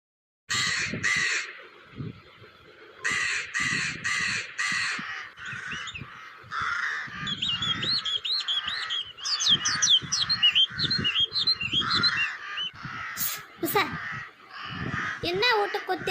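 Crows caw repeatedly in a rural village scene from a cartoon, their loud harsh calls coming in quick bursts over voices talking throughout.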